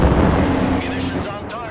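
Airstrike munitions from close air support burst in the Broken Arrow war game, a loud rumbling roar of explosions with rolling low-end booms throughout, while radio-style voice chatter runs over the blasts.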